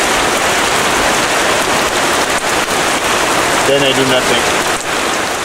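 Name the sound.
rain falling on a roof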